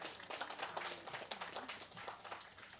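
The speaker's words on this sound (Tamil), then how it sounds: "நல்ல கைத்தட்டல் கொடுக்கலாமே" An audience claps together at an on-stage event, a steady burst of applause that holds for about three seconds at moderate volume with no voices over it.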